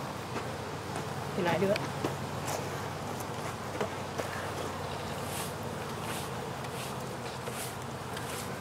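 Honey bees swarm around an open beehive, their dense, steady buzzing drone filling the air throughout, with a person briefly speaking close by and faint shuffling movement underneath.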